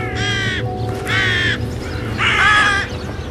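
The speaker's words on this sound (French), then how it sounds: "Oiseau de malheur, charognard, dénonciateur, le corbeau a mauvaise réputation, c'est un fait." A crow caws three times outdoors, harsh nasal calls each lasting about half a second, loud and fairly close over a steady low background rumble, with no talking.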